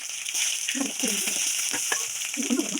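Cumin, fenugreek and mustard seeds sizzle and crackle in hot oil for a Tamil buttermilk curry, with a steady frying hiss broken by small popping bursts.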